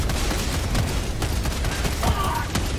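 Rapid gunfire and explosive impacts from Helldivers 2 on Suicide difficulty, a dense, loud barrage of overlapping shots with short sharp bursts throughout.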